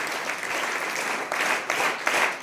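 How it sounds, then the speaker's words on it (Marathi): A school audience claps loudly for a winning high-school bhajan singing team, a dense, even wash of many hands that swells slightly toward the end. "जोरदार टाळ्या वाजवा"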